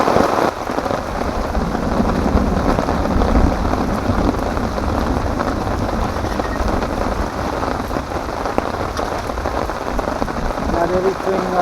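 Steady rain drums on a tent at a wild campsite during a thunderstorm, a dense, even patter close overhead that lasts throughout without letting up.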